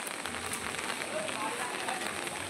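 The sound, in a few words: heavy rain falling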